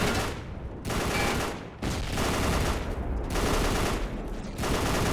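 Machine gun fire rattles in the World War II shooter History Channel Battle for the Pacific during a Leyte Island mission, loud sustained bursts separated by brief pauses.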